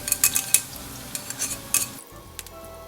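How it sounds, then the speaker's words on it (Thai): Garlic dropped into hot oil in a pan on lowered heat, giving a steady sizzle with scattered stirring clinks and scrapes of a utensil against the pan, close and moderately loud, briefly quieter near the end. "จะเจียวกระเทียมก่อนนะคะใส่กระเทียมลงไปเลย"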